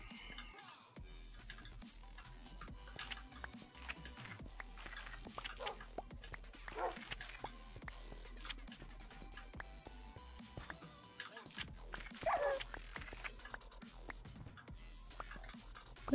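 Dogs in the Minecraft video game bark and yip in short, scattered calls, faint under a steady hum and clicking game noise over about sixteen seconds.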